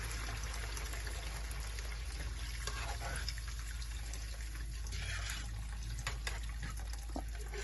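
Hot water pours steadily into a pan while cooking Jamaican steam fish with okra and vegetables, a continuous splashing, trickling rush that stays fairly even throughout.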